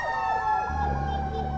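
Fire truck siren wailing on Banawe Street in Quezon City, Metro Manila, a loud rising and falling tone passing close by over steady low traffic rumble.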